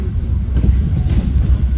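Sri Tanjung passenger train hauled by two locomotives rolling on rails, a steady low rumble and rattle heard from inside the carriage, continuous and fairly loud throughout.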